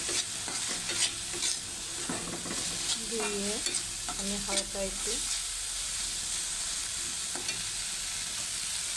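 Cumin and coriander powder sizzle in hot oil in a pan while a spoon stirs and scrapes now and then. Someone talks quietly over the steady frying hiss.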